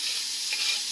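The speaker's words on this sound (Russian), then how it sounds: "берем наши порезанные лук и морковку и точно так же, не торопясь, складываем" Chopped onion and carrot sizzling in vegetable oil in a frying pan, a steady, close, bright frying hiss lasting the whole moment with no talk.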